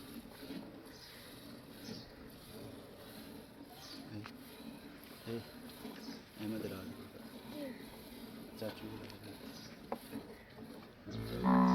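Cows, Friesian crossbreeds, moo faintly now and then in the distance, low drawn-out calls under quiet talking and farmyard background noise.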